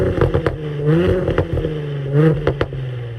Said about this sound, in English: put the car into dynamic mode here. It'll open up the valves and the exhaust, give it a few revs